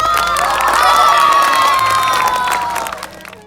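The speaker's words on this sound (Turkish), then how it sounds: "bir kocaman alkışlar mısınız?" A school audience of children claps, cheers and shouts loudly for a winner of a national anthem recitation contest; the whoops and applause stay dense, then fade near the end.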